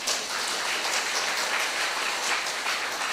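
Applause from a church congregation during a Sunday service, a steady, even wash of clapping that fills the room without a break.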